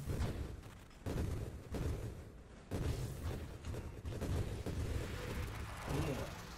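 Heavy grenade blasts in the space shooter Nova Drift, several booming explosions that hit abruptly and roll on amid continuous game noise and some speech.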